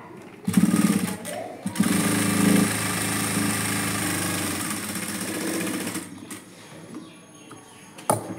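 A sewing machine stitches a simple blouse, its motor whirring in a steady rapid run of several seconds after a short start, then stopping, with faint handling clicks around it.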